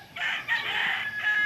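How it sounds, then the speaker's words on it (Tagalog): Rooster crowing in the morning among a flock of chickens, a loud close cock-a-doodle-doo call in two bursts standing alone over a quiet background. "Yun, ang daming manok, no? Kasi umaga ngayon"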